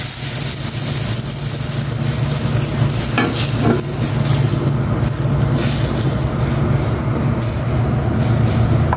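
Steady sizzling of an egg frying in a hot pan, loud and continuous, with a couple of brief clinks partway through.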